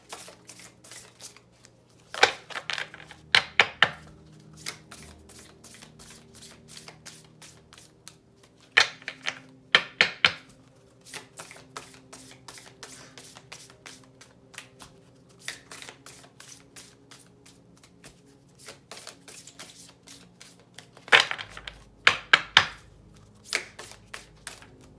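A new deck of tarot cards shuffled by hand in several quick riffling bursts separated by quieter pauses with soft handling and tapping, close and clear, with no voices.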